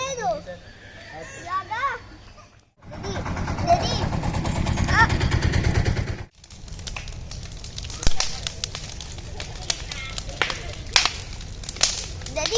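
A Bhogi festival bonfire burns in the early morning in Rajahmundry, with a dense, loud crackling burst in the middle. Children's voices and chatter run throughout.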